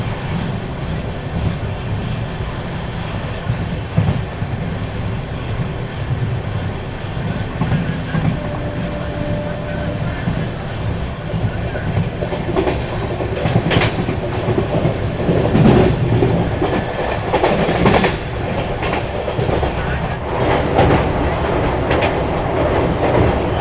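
A passenger train runs at speed through rain, pulling into Nalwari railway station, with a steady loud rumble and rhythmic clickety-clack of wheels heard from on board, growing busier with clatter toward the end.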